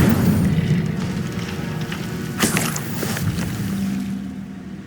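The Incendio fire spell in Hogwarts Legacy goes off as a deep rumbling whoosh with a bright crackling burst midway, then settles back into a low, steady roar.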